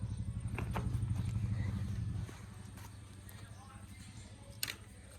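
Tractor-driven mulcher under load, a heavy low rumbling drone that is loud at first and then drops to a lighter steady churn, with a brief sharp knock near the end and no speech.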